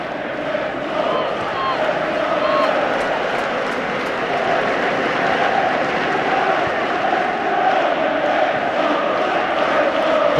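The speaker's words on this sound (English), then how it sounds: "Plenty of singing in the crowd." A large football crowd at the Chelsea vs Tottenham FA Cup quarter-final sings and roars in a steady, dense wash of sound, with commentators talking over it throughout.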